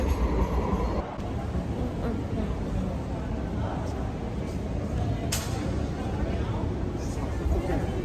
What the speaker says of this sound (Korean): 여기서 기차를 타고 갑니다